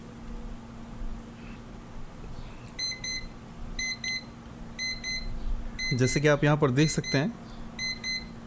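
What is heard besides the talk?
digital alarm clock beeping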